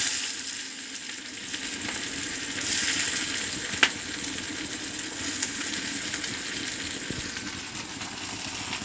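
Onions frying in a hot kadai for soyabori and egg curry, a steady moderate sizzle with a few stirring scrapes and a brief sharp clink, no voices.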